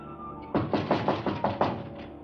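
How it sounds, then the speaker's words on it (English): Someone raps on a door with a quick series of about seven firm, close knocks in an uneven rhythm, loud and clear with no talking. "If you'll just be patient, he'll be knocking in a second"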